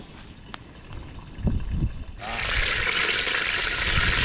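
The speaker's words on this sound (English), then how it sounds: "Sizzling nicely." Food frying in a pan at a campsite, a soft steady sizzle that starts abruptly halfway through after some quiet clatter and background noise, close and moderate in level.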